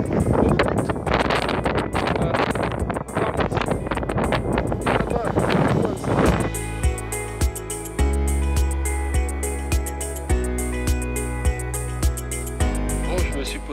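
Strong wind roars across the microphone on a beach at La Bernerie near Les Moutiers, a loud, gusty broadband rush for the first half before steady tonal music takes over.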